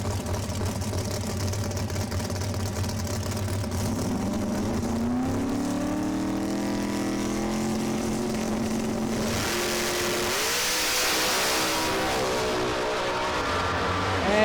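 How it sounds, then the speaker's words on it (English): Drag racing cars at National Trail Raceway, an outlaw-class meet, roar loudly and continuously down the track, with engine tones shifting in pitch as they pull away. "And Chris Rankin will take the win there. Nice pass."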